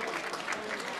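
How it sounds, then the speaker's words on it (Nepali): An audience at a London show claps in a brief, even burst of applause. The clapping is fairly soft and comes from a crowd in the room. "यहाँहरू सबैलाई धन्यवाद तालीको लागि"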